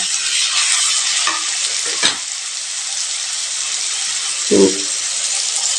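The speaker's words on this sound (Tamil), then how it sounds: "இப்போ தக்காளி மூணு தக்காளி கட் பண்ணி வச்சுருக்குறேங்க அது போட்டுக்கலாங்க" Chopped tomatoes fry in a pan with a constant loud hiss and sizzle, close by, broken by a couple of brief clanks of a spoon against the pan.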